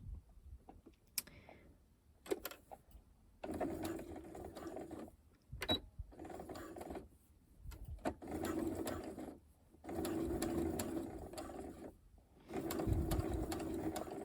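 A sewing machine runs a straight stitch along the centre-front lace seam, whirring in several bursts of a few seconds each, separated by pauses and small mechanical clicks, close but fairly quiet.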